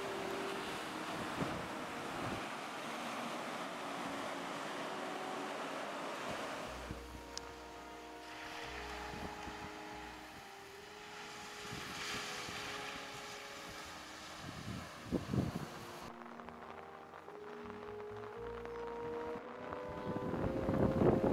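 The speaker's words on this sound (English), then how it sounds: "Just see the waves crashing on the beach." Waves break and surge on a Cornwall beach in rainy weather, the roar swelling and easing under heavy wind buffeting across the microphone, with no one talking.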